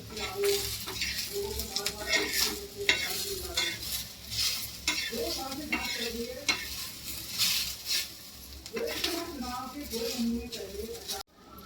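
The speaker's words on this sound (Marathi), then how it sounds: "आता गरम मसाला टाकलाय आणि धने टाकले, तेलामध्ये भाजते।" Garam masala and coriander seeds fry in hot oil for a Khandesh patodya dish, giving a steady close sizzle with repeated scraping stir strokes against the pan, no one talking.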